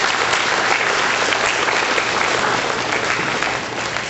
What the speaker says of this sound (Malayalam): കൈയടിച്ച് കർത്താവിന് നന്ദി പറയുക.